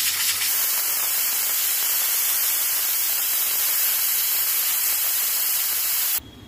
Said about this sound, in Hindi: अब हम चूल्हे को बंद करते हैं और विसल को हटाते हैं,